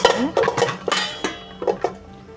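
A steel plate is set over a pressure cooker on a kitchen stove, giving a quick series of close, sharp metallic clinks and clatters with no talk.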